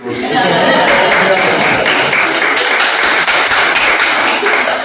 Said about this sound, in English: I think we should give you the biggest applause